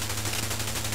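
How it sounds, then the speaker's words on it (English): Rapid 20mm cannon fire from an aircraft in the flight combat game Chuck Yeager's Air Combat, a fast continuous stream of sharp shots in a short burst with no talk over it. "20mm cannon"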